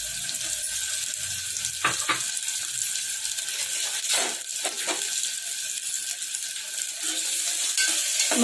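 Two cut medium-sized onions with green chillies sizzle in hot oil for mutton keema, a constant close crackling hiss broken by a few louder scraping stirs.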